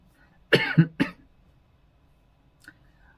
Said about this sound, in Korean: 오늘 제가 기침이 많이 나네요